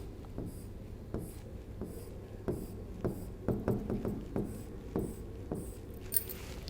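Chalk or marker writing on a board during a lecture, a run of sharp tapping and scraping strokes in irregular rhythm, close and fairly clear over a faint room background.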